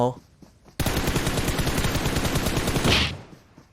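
Rapid automatic gunfire from the mobile shooter PUBG Mobile, a sustained loud burst of tightly spaced shots that starts abruptly and runs for about three seconds before fading.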